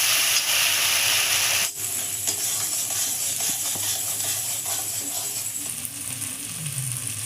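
Peanut and green chili paste hits hot oil in a pan and sizzles loudly and steadily, a continuous hissing fry with faint scraping of stirring underneath.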